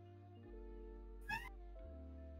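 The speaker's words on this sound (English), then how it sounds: "Got a cat yelling at me." A cat gives one short, clear meow close to the microphone, rising and then falling, set against a steady background hum of game music.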